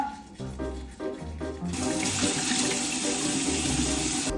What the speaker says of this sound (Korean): 나 일단 빨리 샤워하고 나올게